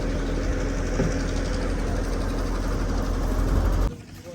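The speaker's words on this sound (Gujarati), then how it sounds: "આ ભાઈ અહીંયા હોડી ચાલુ કરી છે. જો તમને અવાજ આવતો હશે." An oil-engine fishing boat idles at Khada harbour with a steady, low, throbbing rumble close by that holds through most of the moment, then drops away suddenly.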